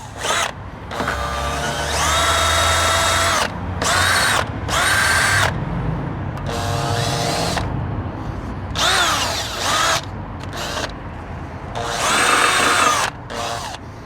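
Power tool scrubbing rust off Renault Megane front brake parts, loud whining bursts that start and stop repeatedly in short and longer runs, close by with no talk.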